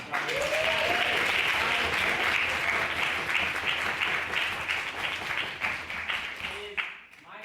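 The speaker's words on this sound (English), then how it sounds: "Can we get another massive round of applause?" Loud, sustained applause from a debate audience fills the room, dense clapping throughout with a few voices rising over it, tapering slightly near the end.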